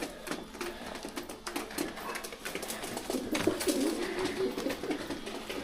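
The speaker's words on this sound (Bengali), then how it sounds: "এখানে আমার দুটো পায়রা আছে" Domestic pigeons cooing close by in a loft, with soft repeated burbling coos in an overlapping flow, and a faint mechanical rattle in the background.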